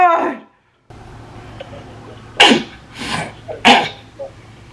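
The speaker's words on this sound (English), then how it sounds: "Do you have a problem with my 20 sneezes?" Several loud, sharp sneezes burst out one after another in a room, spaced about a second apart over a low steady hum, with a brief voice at the start and a small throat noise near the end.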